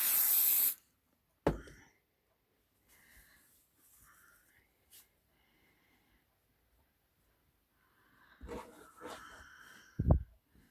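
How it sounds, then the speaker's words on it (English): A short burst of temporary adhesive spray hisses from an aerosol can onto a fabric panel at the start, followed by quiet handling noises, soft clicks and a few rustles. "give the panel a spray with some temporary adhesive"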